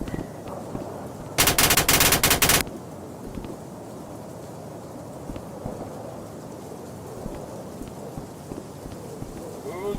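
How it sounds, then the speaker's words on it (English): Heavy rain pours steadily in a storm, with a loud, dense crackling burst of about a second like a close thunderclap or hard downpour, then constant rain hiss with scattered sharp drops, no talk. "It's raining really bad."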